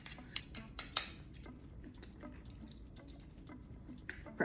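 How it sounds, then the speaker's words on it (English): Lemon and horseradish cocktail sauce stirred in a bowl, with light clinking taps of a utensil, several quick ones at first, then softer scrapes, all faint and close. "And stir it up"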